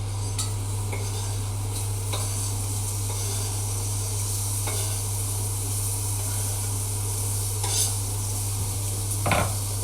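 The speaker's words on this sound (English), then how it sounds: "into my pan, I'm going to put a little bit of olive oil. Okay, that's gone into there. I'm now going to put my onions in." Onions fry in olive oil in a pan, giving a steady broadband sizzle with occasional light scrapes and clinks of a utensil stirring, close and continuous with no talking.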